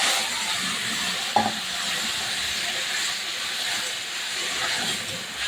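Curry with fish and taro simmering and sizzling in a pan, a continuous hissing fry with a soft clack near the start, steady and close throughout.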